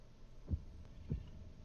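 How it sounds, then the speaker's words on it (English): Heartbeat in a Zelda: Breath of the Wild sequel game trailer: two deep, low thumps about half a second apart, quiet and alone over a faint hum. "Do you hear the heartbeat?"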